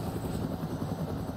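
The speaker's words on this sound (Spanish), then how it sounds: "Helicóptero enemigo." An enemy helicopter in the military game ArmA 3 flies close, a loud continuous rotor thump and engine drone throughout, with no talk over it.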